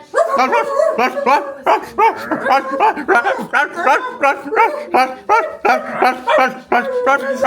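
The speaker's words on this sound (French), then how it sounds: "Mais qui dort en aboyant." A dog gives a rapid, continuous series of muffled yips and soft barks, the high broken sounds typical of a dog dreaming, close by.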